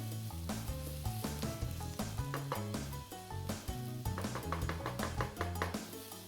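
Onions and carrots fry in a pot for Japanese beef curry, a soft, steady sizzle broken by rhythmic stirring taps and scrapes of a utensil, fairly quiet and close, with no talking.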